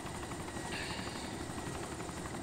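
A helicopter in the ArmA2 Wasteland video game drones steadily with a constant rotor thrum and broadband whine, continuous and fairly close, with no talk.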